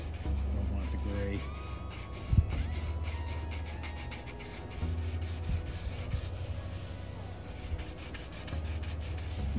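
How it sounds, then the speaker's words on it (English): A microfiber towel rubs dust off the cowl of a 1956 Chevy hot rod with a patina paint job, giving steady close scrubbing strokes with one sharper knock partway through. "Using a microfiber to get the dust."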